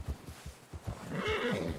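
A horse in the video game Red Dead Redemption 2 gives a short neigh after a few soft hoof clip-clops, the whinny rising clearly near the end.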